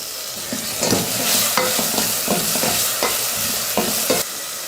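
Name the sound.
tomato frying and being stirred with onion and garlic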